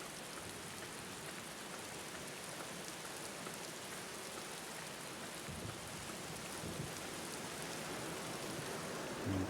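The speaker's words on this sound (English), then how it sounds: "Let's just listen to the rain and go to sleep." Steady rain in a video game pattering continuously at a soft, even level, a dense hiss of drops with no voices.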